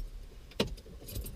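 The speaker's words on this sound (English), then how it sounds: "Do you remember how many clicks to turn the ignition on?" Car keys jangle and click once as they turn in the ignition of a learner driver's car, a single short sharp sound near the middle amid quiet cabin noise.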